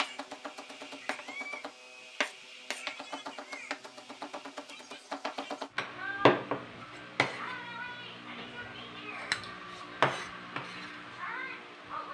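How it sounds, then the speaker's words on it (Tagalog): Garlic is chopped on a board with a knife, sharp irregular taps in quick bursts up close, under background music. "Natagtad na natin ang ating bawang."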